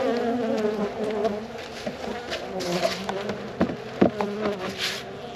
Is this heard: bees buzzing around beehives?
yes